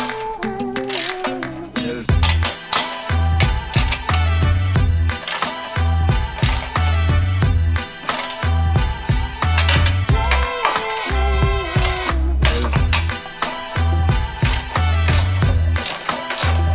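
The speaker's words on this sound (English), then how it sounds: "grab a 19 millimeter socket and wrench to wrap this all up" A 19 mm socket and wrench ratchet the frame-mounted rock slider bolts on a Jeep JL Wrangler Unlimited, with continuous rapid clicking that runs steadily and loudly for the whole stretch with no talk.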